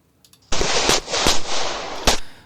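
Pistol shots fired at targets during a USPSA practical shooting stage, a fast loud string of sharp cracks over about two seconds, heard close, with gaps and a final shot.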